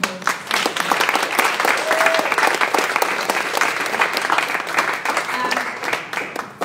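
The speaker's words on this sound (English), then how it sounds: "please give them another round of applause" An audience applauds panellists at a startup panel on women leading startups, with sustained, dense clapping that stays loud and steady throughout, a few faint voices mixed in.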